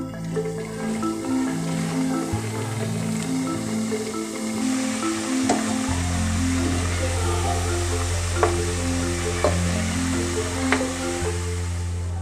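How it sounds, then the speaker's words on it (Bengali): Sunflower-shaped pitha deep fry in hot oil with a continuous bubbling sizzle, heard close but partly under louder background music. "আমি বাকি পিঠাগুলো একইভাবে ভেজে নিব।"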